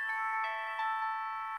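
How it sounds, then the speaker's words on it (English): A 2006 flip phone powers on and plays its boot-up sound: a short, bright electronic chime of sustained tones with a few soft accents, lasting under two seconds in quiet surroundings. "I like the boot up sound for this phone."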